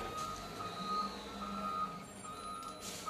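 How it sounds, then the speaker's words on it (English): A garbage truck outside reverses, its steady high electronic beeps repeating over a low engine rumble at moderate distance, heard faintly from indoors with no talk. "there is a garbage truck outside."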